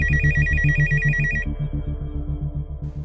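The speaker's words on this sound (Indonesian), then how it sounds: "Telepon kamu bunyi terus." A telephone rings loudly with a rapid repeating electronic trill, pulsing steadily for a few seconds before the high tone cuts off.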